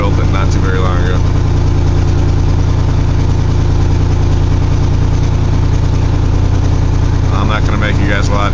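A carbureted 1982 GMC S-15 truck idling during a cold-start warm-up at 35 degrees, with a steady, loud, low engine rumble throughout and brief talk over it near the start and end.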